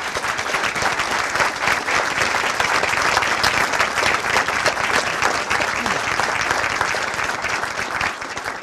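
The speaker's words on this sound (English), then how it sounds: "I think that needs another round of applause" An audience at a Jacksonville City Council meeting applauds, producing a long, loud, even burst of many hands clapping that holds steady for over eight seconds.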